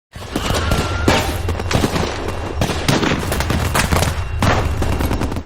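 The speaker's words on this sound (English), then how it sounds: "soldiers suddenly arrive and open fire" Dense, loud gunfire as soldiers open fire in a zombie-infested city, a sustained barrage of overlapping shots and bursts filling the whole stretch with no pauses.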